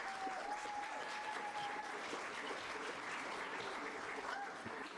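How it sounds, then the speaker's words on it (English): Faint applause from an audience at a live event for student reporters who covered New York City schools, soft continuous clapping heard at a distance with a thin tone running through part of it. "Can we get a round of applause?"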